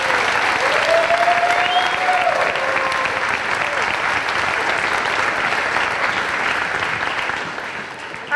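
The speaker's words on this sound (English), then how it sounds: "So can we give one more round of applause for both of our soloists?" Sustained applause from a school string concert audience rewards the soloists, a full, even wash of many hands clapping that holds steady for several seconds before fading near the end, with a faint voice briefly audible over it.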